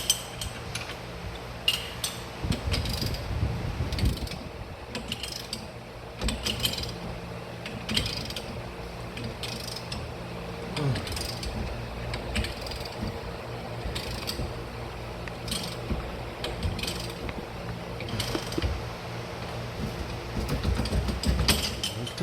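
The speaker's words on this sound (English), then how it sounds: "Got my jack under there holding the axle up itself right underneath the differential." A jack sitting under the differential lowers the rear axle of a 1972 Mustang Mach 1, giving off irregular mechanical clicks, ratcheting ticks and metallic creaks at a low, steady level with no voices.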